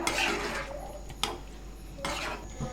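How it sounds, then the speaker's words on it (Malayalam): A spoon stirs cream into paneer tikka masala in a pan, with scraping and clinking strokes against a soft background hiss, close and moderately loud, no talking. "ഇത് നന്നായിട്ട് നമുക്ക് മിക്സ് ചെയ്തെടുക്കാം."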